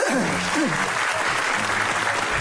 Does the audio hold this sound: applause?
yes